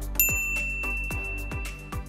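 Notification bell dings ring out in a repeating series of bright metallic strikes, about five evenly spaced chimes over two seconds, clear and alone.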